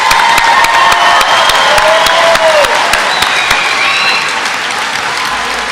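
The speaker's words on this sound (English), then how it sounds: "How about a round of applause, please?" A large crowd at a high school graduation applauds steadily, dense clapping filling the space with a few scattered cheers and whistles, holding loud throughout.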